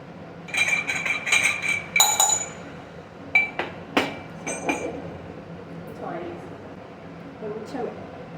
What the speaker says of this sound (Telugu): మిరియాలు స్మాష్ చేసుకుంటాను